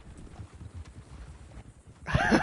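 A horse in Red Dead Redemption 2 gallops with soft repeated hoofbeats and faint snorts, ending in a louder burst of noise, with no talk.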